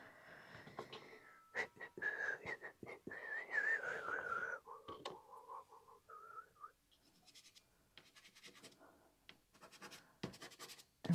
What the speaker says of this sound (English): Really have to remember to try not to whistle.